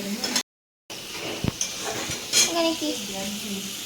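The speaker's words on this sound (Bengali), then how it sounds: "কুমড়ো ভাজা হচ্ছে হেভি তো" Pumpkin fries in a home pan with a steady sizzle and occasional utensil clinks, close by. A brief silent gap comes early, and faint speech is present.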